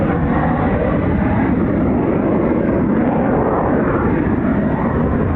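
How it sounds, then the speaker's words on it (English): An F-35B stealth jet with its lift system engaged roars in a loud, steady, broadband wash that holds without a break, filling the air with no voices. "the lift system just kick in?"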